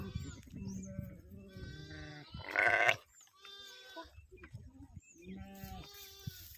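Several sheep bleat nearby, one loud wavering bleat standing out among softer calls, with some background voices and movement.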